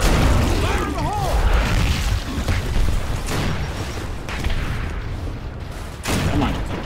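A grenade goes off in the Gears of War shooter game with a loud, deep boom at the start. Rumbling debris and scattered gunfire-like pops and mechanical clatter continue behind it.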